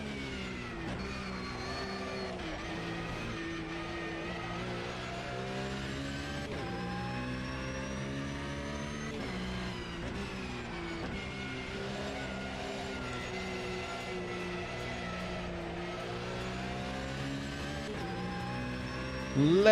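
A Porsche race car in Automobilista 2 at Le Mans, a steady engine note rising and falling through repeated gear changes, fairly quiet and continuous with no talking.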